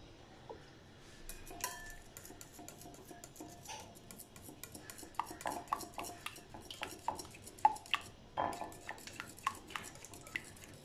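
Eggs cracked and yolks separated into a bowl for egg tart filling, giving soft scattered clinks and taps of shell and utensils against the bowl, close and quiet with no talking.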